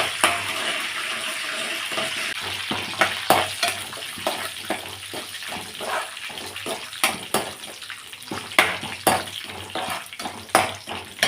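Mustard seeds, coarsely crushed garlic, tempering spices and chillies frying in hot oil, a dense crackling sizzle with frequent sharp pops and spatters, close and fairly loud.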